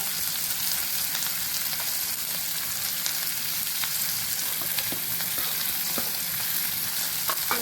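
Capsicum, garlic, bell pepper, onion and carrot sautéing over a high gas flame for red chili sauce pasta, a loud continuous sizzle with scattered crackles and spatula scrapes.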